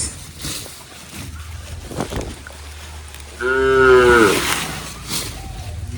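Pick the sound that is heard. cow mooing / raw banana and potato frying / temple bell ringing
cow mooing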